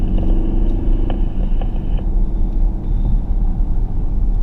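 A 2020 Porsche Panamera GTS drives around the north track at Monticello Motor Club, its engine a dense, loud low-frequency rumble heard from inside the car, with road and tire noise throughout and no talk.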